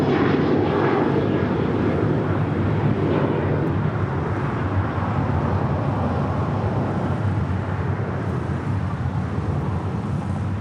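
An Air Canada Airbus A321 arriving from Toronto roars steadily and loudly as a broad, continuous jet engine rush that eases only slightly, with no voices.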